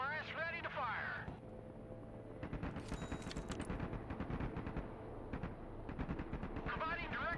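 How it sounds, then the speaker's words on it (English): MLRS rocket artillery launching in the military strategy game Broken Arrow: a dense, rumbling string of rapid blasts and booms that runs steadily for several seconds, with a radio-style voice talking at the start and end. "MLRS ready to fire!"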